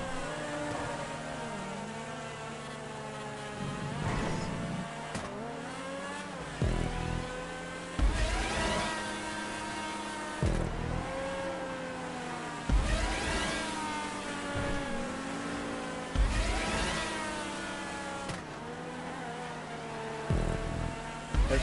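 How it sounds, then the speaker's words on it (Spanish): Cars in the video game GTA race and rev, engines sweeping up and down in repeated pitch rises with sharp bursts every few seconds, loud and continuous throughout. "Los coches, tío."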